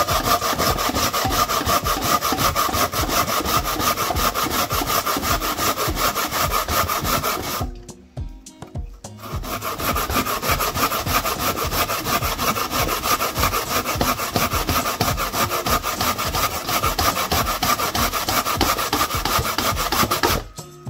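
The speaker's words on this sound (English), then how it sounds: "So guys, I'm just grating my sweet potato." Sweet potato rubbed by hand against a grater gives fast, rhythmic rasping strokes, loud and close, running steadily with one brief pause midway before the scraping resumes.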